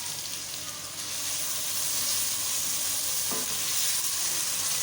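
Onions frying in a pot in about a quarter cup of cooking oil for chicken aloo gosht, giving a steady, dense, close sizzle that holds without pause and swells slightly toward the end.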